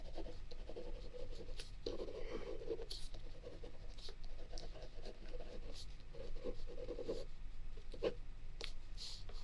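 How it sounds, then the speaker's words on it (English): A pen scratches across paper in short bursts of writing, close and quiet, with brief pauses between strokes in a hushed indoor setting. "I'm going to write this down right away"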